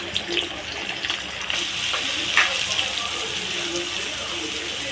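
Large sliced onions fry in hot oil for channa masala, a steady gushing sizzle that runs continuously with a few brief crackles.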